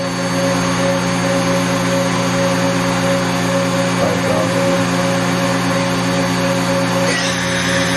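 A 2003 Mori Seiki GV-503 five-axis CNC vertical machining center spindle runs at speed with a steady, loud, airy whine and sharp tonal hum, shifting slightly as it ramps, with no talking.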